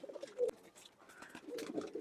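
A Chot breed pigeon from an old Khulna bloodline coos close by in two soft, throaty rolling phrases separated by a brief pause.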